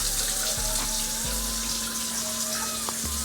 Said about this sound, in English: we're just running some water through, checking for leaks